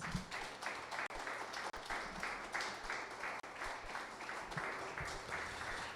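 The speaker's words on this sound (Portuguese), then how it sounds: "Vamos receber o pastor Inohan com uma salva de palmas." A church congregation applauds to welcome the pastor at a Sunday evening service, an even, sustained wash of clapping with a few brief dips, faint and somewhat distant in the hall.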